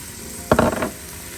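Dried oregano, basil and Italian seasoning stirred into a sizzling pot of creamy tomato soup: one short, close burst of scraping and bubbling sizzle lasting under half a second between quieter stretches.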